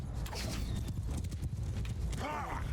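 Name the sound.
cavalry horses galloping in video game Mount & Blade II: Bannerlord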